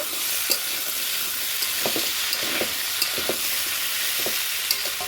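Kabuli chickpeas sautéing in a pan for ghugni produce a constant hissing sizzle, with light, irregular spatula stirs and scrapes tapping through it, close and steady, with no speech.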